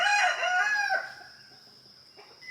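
A rooster crows once loudly and close, the call trailing off into a fainter high tone, with other backyard chickens around and no talking.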